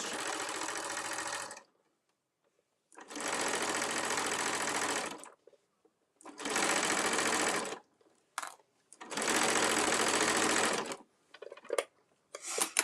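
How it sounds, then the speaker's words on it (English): A sewing machine stitches down the edge of a fabric cosmetic bag in four loud, steady bursts of rapid whirring, separated by short pauses with small handling clicks. "we're going to stitch right down that edge"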